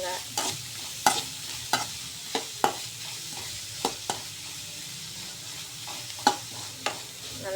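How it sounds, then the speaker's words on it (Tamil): Two large onions sautéing in a pan, a low continuous sizzle punctuated by a dozen or so sharp spatula scrapes and taps at an irregular pace, close and without voices. "2 பெரிய வெங்காயம் போட்டு நல்லா வதக்குங்க"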